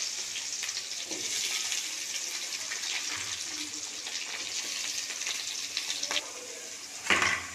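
Chopped onions sizzle in a pan with oil while cooking a crab fry, a steady soft frying hiss with occasional stirring scrapes and a louder clatter near the end.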